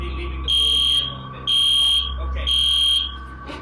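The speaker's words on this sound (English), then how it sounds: "After a while, the fire alarm goes off, and the students retreat from the classroom." A school fire alarm sounds during an earthquake, three loud pulsing electronic blasts repeating about once a second with short gaps, ringing over a low rumble and background noise.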